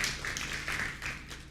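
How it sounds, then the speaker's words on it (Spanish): A church congregation claps in brief, steady applause during a service, a dense patter of hands with no voices over it. "¿Cuánto le da un aplauso a Él?"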